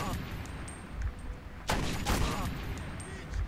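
Enemies firing in Metro 2033, a sharp burst of gunshots cutting through low rumbling ambience, with scattered fainter shots around it; a voice talks faintly underneath.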